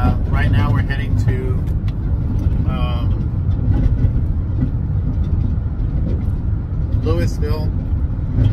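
A car drives along a highway in January, with a steady loud road and engine rumble from inside the cabin throughout, and a person talking over it.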